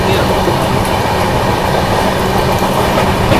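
Mahakaushal Express 12190 running between Delhi and Jabalpur, a steady loud rumble of carriage wheels on rails with faint clickety-clack, continuous throughout with no talk.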